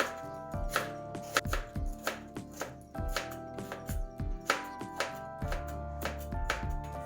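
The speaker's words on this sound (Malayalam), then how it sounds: "ചെറിയൊരു കഷ്ണം ക്യാബേജും ഇങ്ങനെ ചെറുതായിട്ട് കട്ടാക്കി എടുക്കുക" Cabbage and capsicum chopped finely with a knife on a board, a brisk run of sharp, close knocks in an uneven rhythm with no talking.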